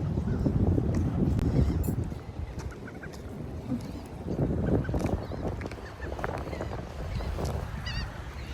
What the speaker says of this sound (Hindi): जिस तरह से ये बर्ड जो है ना आवाज़ें चहचहाते हैं